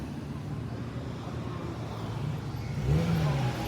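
Street traffic on a Friday in Los Angeles, a steady wash of passing cars with one vehicle swelling louder and closer near the end, no voices.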